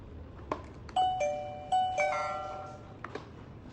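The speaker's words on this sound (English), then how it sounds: "Press the doorbell." An M6 Tuya smart visual doorbell chime rings indoors, a clear two-tone ding-dong played twice in close succession with ringing tails, then faint clicks, no talking.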